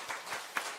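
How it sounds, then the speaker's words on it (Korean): Scattered, faint claps from a congregation applauding children at a Holy Week dawn prayer service in a church, a few soft separate hand claps spread across a short moment. "우리 지금 새벽에 나와서 예배드리는 우리 아이들에게 한번 격려의 박수 부탁드립니다"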